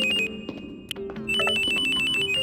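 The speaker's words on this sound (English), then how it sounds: "let me move away from the static so I can hear my phone." Phone ringing in Silent Hill: Shattered Memories: a loud, close electronic ringtone with steady tonal rings, a brief break midway, then resuming strongly, no talk.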